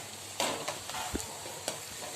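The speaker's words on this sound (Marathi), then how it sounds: "छान गुलाबी होत परतून घ्यायचा आहे चला थोडा कढीपत्ता टाकूया आपला कांदा छान लालसर होत आला आहे" Onion and curry leaves frying in a pan, a soft continuous sizzle punctuated by a few sharp spatters and stirring scrapes, close and fairly quiet, with no talking.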